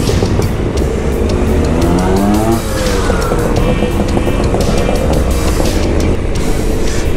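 Loud buzzing two-stroke scooter engines revving and passing close by on a group ride in the Cotswolds, pitch rising and falling as the scooters accelerate together, continuous throughout.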